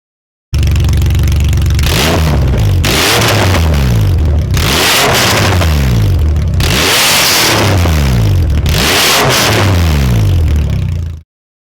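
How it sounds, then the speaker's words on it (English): A RWB-modified Porsche 993 engine revs hard several times through small exhausts, loud and raspy, each rising roar dropping back before the next, with no talking. "You see these small little mufflers or exhausts? Those tiny exhausts sound wild."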